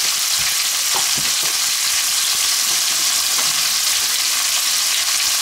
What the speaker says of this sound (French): La viande, on la marque de tous les côtés.